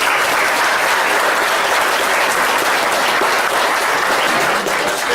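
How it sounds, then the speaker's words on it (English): Steady, sustained round of applause from an audience at a Lassen County candidates' forum, dense and loud throughout with no talking over it. "And let's give them a round of applause."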